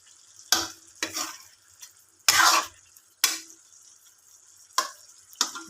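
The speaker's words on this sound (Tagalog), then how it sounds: "haluin para hindi magdilaw yung suka" Pork humba with vinegar being stirred in a pan, with about half a dozen separate spoon scrapes and clatters over a soft simmering sizzle, close and fairly loud, with quiet gaps between them.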